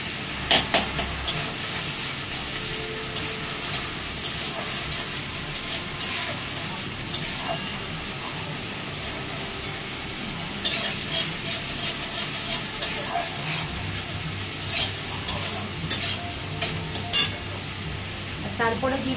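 Chilli garlic chicken stir-frying in a pan with dark soy sauce, a steady sizzle broken by repeated scraping and stirring clatters, with a voice talking intermittently over the cooking.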